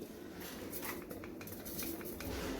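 A metal sieve is set down on a roasting pan to sift homemade ground bread crumbs, giving a few light clinks and scrapes of metal against metal, with faint bird cooing in the background.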